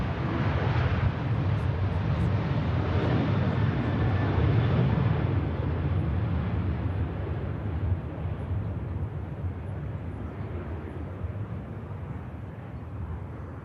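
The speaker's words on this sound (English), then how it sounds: "Dreamliner just touching down at the back of your shot there." A Boeing 787 Dreamliner touches down at Manchester Airport, heard as a broad, distant roar that swells early and then slowly fades under wind noise.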